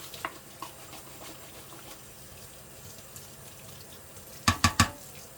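Tap water running steadily into a sink during scrubbing with an all-purpose household cleaner, a soft continuous hiss with faint knocks, ending in three sharp close clunks.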